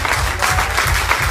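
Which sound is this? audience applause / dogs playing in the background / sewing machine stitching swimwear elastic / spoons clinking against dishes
audience applause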